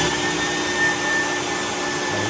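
Shop vac sucking up water to fill an inverted pond aquarium, a loud continuous whine with a steady airy roar and a high tonal hum, running alone without talk.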